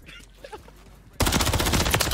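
Rapid automatic gunfire in a video game gunfight erupts after a quiet stretch, a dense, loud burst of repeated shots that continues to the end.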